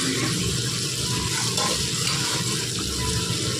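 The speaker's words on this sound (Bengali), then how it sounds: "এবার ওই বাটিটা ধুয়ে বাটা মশলার একটু জল দেবে।" Water runs steadily and loudly from a tap while a bowl of ground spice paste made of poppy seed, cashew and white mustard is rinsed out, a constant close rushing splash with no talk.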